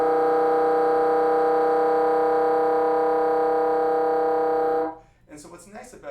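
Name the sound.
underblown B multiphonic on woodwind, altered fingering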